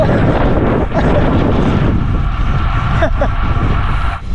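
Strong desert wind buffets a cyclist on the Al Qudra sand track in Dubai, a loud continuous rush with gusty swells and a few brief dips.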